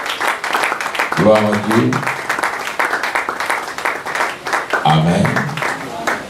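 A church congregation applauds Jesus with sustained, dense clapping, loud and close, while a voice calls out twice over the applause.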